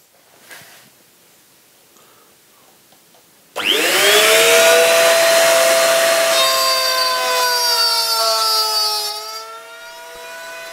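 A palm router bites into 12 mm plywood, its motor rising to a loud, high whine with a steady cutting hiss for several seconds before easing off, after a quiet start.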